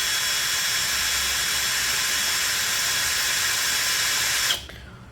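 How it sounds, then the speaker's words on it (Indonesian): A DCK KDJZ23-10i 12V brushless drill runs at speed setting 1 in drilling mode, a steady, loud whine held for over four seconds before cutting off abruptly and spinning down. "Kecepatan nomor 1 terlebih dahulu, modenya mode drilling."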